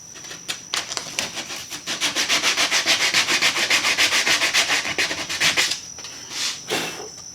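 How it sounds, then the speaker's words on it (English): Steady rhythmic sanding by hand with adhesive-backed sandpaper stuck to the fingers, smoothing a freshly cut edge during work on a Tango 18, with fast back-and-forth strokes close up that run for several seconds before easing off. "Throw the sandpaper on here a little bit."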